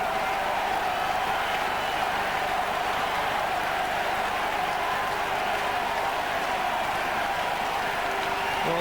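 Dense stadium crowd at a Gaelic football championship quarter-final replay between Mayo and Laois, a continuous broad roar of cheering and clapping that holds steady throughout, with faint commentary beneath.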